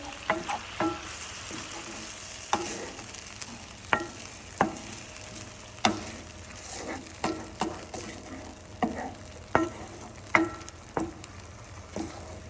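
Cauliflower fried rice with egg sizzles steadily in a hot pan while a utensil scrapes and taps in an irregular rhythm as it's stirred.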